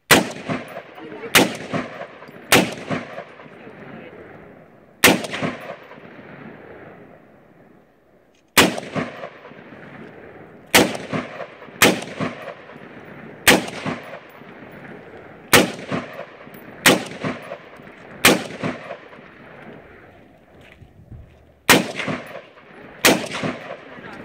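AR-15 rifle shots at a range, fired as single loud cracks one trigger pull at a time, about fifteen shots spaced irregularly a second or two apart, each with a ringing decay.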